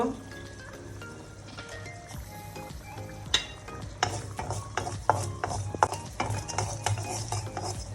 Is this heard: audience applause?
no